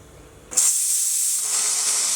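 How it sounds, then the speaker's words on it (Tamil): Steam bursts suddenly from a pressure cooker cooking dal for drumstick sambar, a loud, sharp hiss that starts abruptly and holds steady for over a second and a half. "இப்போ குக்கர் க்ளோஸ் பண்ணி 3 விசில் விட்டு பருப்பை வேக வச்சு எடுத்துடலாம்."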